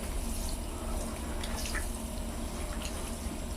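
A water tap runs steadily into a basin, giving a continuous close splashing rush with faint dripping and no pauses.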